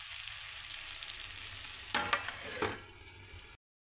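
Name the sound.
tomato chutney frying in pan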